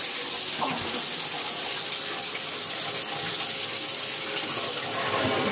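Water runs steadily from a tap into a bath while a puppy is washed, making a constant close gushing and splashing with little change.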